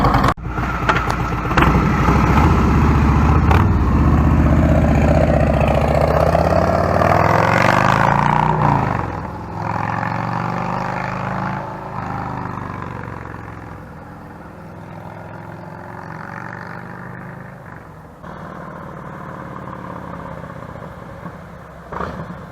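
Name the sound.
motorcycle pulling out and riding off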